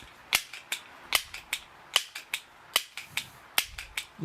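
Repeated sharp mechanical clicks and clacks from pumping a pneumatic pellet pistol fifteen times, loud and close, coming in an uneven rhythm of roughly two strokes per second with no talking.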